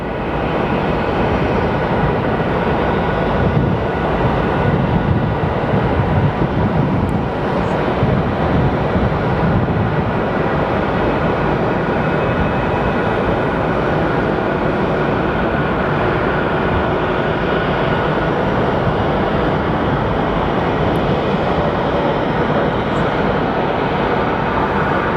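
American Airlines flight 2727 from Dallas lands at Phoenix Sky Harbor Airport, its engines a loud, steady, broad roar that holds without a break from start to finish.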